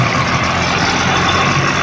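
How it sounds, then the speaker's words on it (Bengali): The engine of a river ferry launch at a ghat crossing runs with a steady, loud, low rumbling drone, close and continuous without variation. "ইঞ্জিনে আওয়াজও পাচ্ছেন আপনারা"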